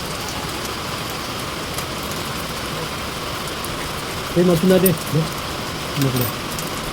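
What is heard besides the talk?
rain falling outdoors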